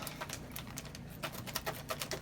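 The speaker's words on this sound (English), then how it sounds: "cut this pack open" Close crinkling and snipping as a plastic pack of Dreamweaver ballyhoo fishing bait is cut open with scissors, a quick run of small crackles and clicks with no talking.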